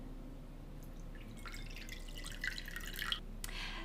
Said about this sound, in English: we're going to add 250 grams or about 1 cup of warm water